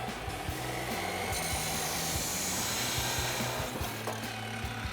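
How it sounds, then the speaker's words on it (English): A saw cutting through exhaust pipe for a Tacoma MBRP Armor Plus single exhaust install: a steady, loud, gritty rasping and grinding that runs continuously and close up for the whole stretch, with no talk. "take this over to the saw and make our cut"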